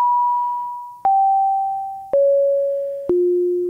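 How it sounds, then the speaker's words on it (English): Self-oscillating filter on a Teenage Engineering POM 170 modular synth: a pure sine-like whistle stepping down in pitch four times, each step starting with a sharp click and fading slightly, loud and alone. "we can control the pitch of this oscillation using the control inputs on the filter."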